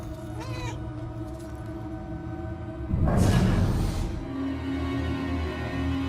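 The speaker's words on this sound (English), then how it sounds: "Shoot, Cat, get out of here." A cat in the Murdered: Soul Suspect game lets out a short meow early on, with a louder whooshing burst midway over a steady low ambient hum.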